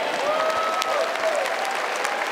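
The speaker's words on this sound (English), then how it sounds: "Give the Lord a hand clap." An audience at a Feast of Tabernacles gathering in Israel claps together in steady, even applause that lasts throughout, with a faint voice calling out over it.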